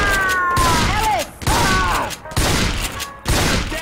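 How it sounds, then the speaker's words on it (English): Rapid video-game gunfire from Left 4 Dead 2 on the Dark Carnival map, dense loud bursts of shots and thuds running almost continuously with brief gaps, mixed with mechanical game noise and no one talking. "I'm gonna shoot all of you."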